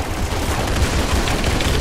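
Rapid video game gunfire in the shooter Arsenal crackles in a dense, continuous burst, loud and close with no pauses between shots.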